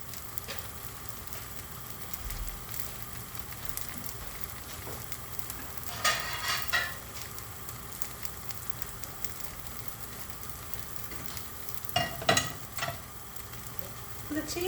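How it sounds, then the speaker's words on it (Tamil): A cheese dosa cooks on a hot pan with a steady low sizzle, quiet and close, broken by two brief bursts of scraping or stirring. "இப்போ அந்த தோசை குக் ஆகட்டும்."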